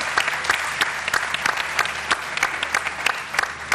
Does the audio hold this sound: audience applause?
yes